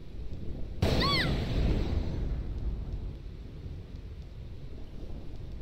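Thunder rumbles across the Thunder Plains in Final Fantasy X. A sudden loud crack lands early and rolls into a long low rumble that slowly fades over steady rain-like background noise.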